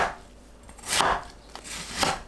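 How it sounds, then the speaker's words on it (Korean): Radish sliced with a knife on a board, two or three soft thudding cuts spaced about a second apart, close and quiet with no talking. "무를 썰어주세요"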